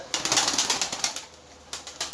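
Wings flap in quick rapid bursts close by, a flurry of beats, a short pause, then another brief burst.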